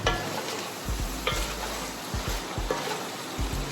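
Mushrooms stirred in a pot for a chicken and mushroom soup, soft wet sizzling under a string of low knocks and scrapes from the spoon, close and unaccompanied.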